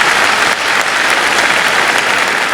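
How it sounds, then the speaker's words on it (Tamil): An audience at a Tamil pattimandram debate show claps, giving a loud, dense, continuous round of applause that fills the whole stretch without any speech. "நம்பாதவங்க கைத்தட்டலாம்."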